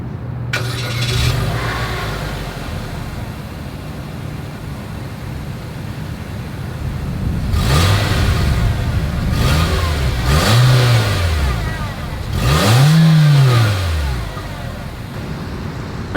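A 2022 Nissan Kicks crossover starts, settles into idle, then its exhaust rises and falls through three separate revs, each climbing higher and louder before dropping back, heard close up.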